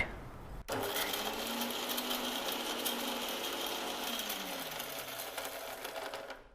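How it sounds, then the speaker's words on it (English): A kitchen mixer grinder pulverizing grated coconut, a loud steady motorized whir that starts abruptly after a brief pause and runs continuously, its pitch slowly dropping near the end as the load settles. "Let's first grind the coconut."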